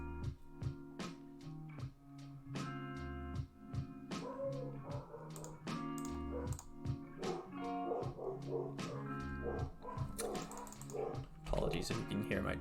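Dogs bark intermittently in a room while someone plays a Magic: The Gathering Pioneer match, with short yips and barks sounding somewhat distant beneath ongoing talk and keyboard tapping.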